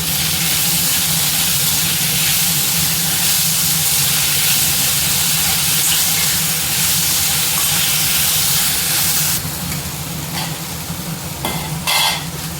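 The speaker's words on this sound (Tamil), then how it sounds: "சட்னிக்கு தேவையான அளவு கல் உப்பு சேர்த்து வதக்கும்போது நம்ம தக்காளியும் சீக்கிரம் வதங்கிடும்" Tomatoes sauté with rock salt in a hot pan for chutney, producing a loud, dense, continuous sizzle with stirring scrapes throughout that eases slightly near the end.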